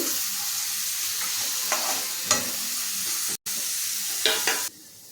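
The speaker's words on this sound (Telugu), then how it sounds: "కొంచెం స్టవ్ సిమ్లో పెట్టి వేయించండి." Thin pieces of ridge gourd peel frying on low flame in a pan, giving a soft steady sizzle with a few stirring scrapes and clicks, fairly quiet and without talk, ending with an abrupt drop in level.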